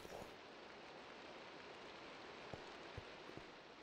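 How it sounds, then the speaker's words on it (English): A sprinkler in the video game Minecraft gives off a soft, steady rain-like hiss with a few faint droplet ticks, quiet and continuous, with no voices. "I love that the sprinkler gives a rain noise."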